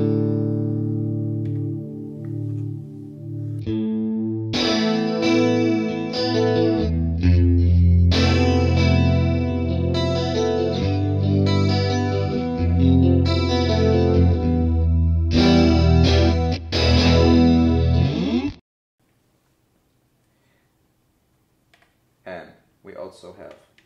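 Electric guitar through an Axe-FX II strums and picks chords with a lush, wavering chorus effect for most of the clip, then stops, leaving a few faint clicks and taps.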